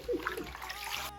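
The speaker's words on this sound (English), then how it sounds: "I'm going to be washing it until I see that the water is clean." Kenkey leaves are washed in water for Fante kenkey, giving a brief, faint splash and slosh as they are moved and rinsed.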